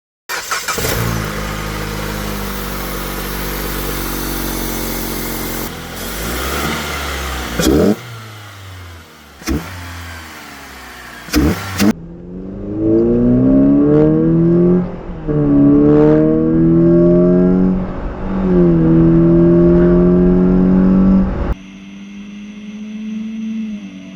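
A Porsche Cayenne engine fitted with a K&N cold air intake revs hard in several sharp blips, then climbs through repeated rising pulls, loud and near, with brief pauses between bursts.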